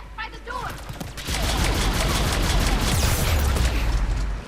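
Rapid sustained gunfire from the player's weapon in Mass Effect 3, a dense burst of shots that swells loud after a brief quieter opening and keeps hammering without a break.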